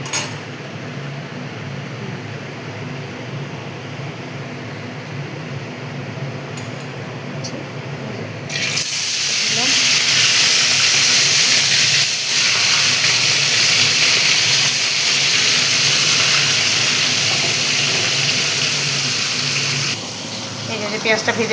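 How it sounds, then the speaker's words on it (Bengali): A fish dropped into hot oil for frying erupts into a loud, continuous sizzling hiss partway through, after a quieter stretch of low kitchen hum. The sizzle stays close and strong, easing slightly near the end. "তেল গরম হয়ে গেছে, এবার আমি মাছটা ছেড়ে দেবো, মাছটা ভেজে নেব।"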